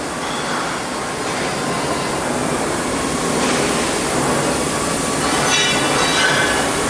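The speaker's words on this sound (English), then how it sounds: "One of our best workers here is grinding this down, trying to make it as decently smooth as possible" A worker grinds down steel bogie wheels made for skid steers, track loaders and excavators, producing a loud, continuous, harsh abrasive roar that holds steady throughout with slight swells.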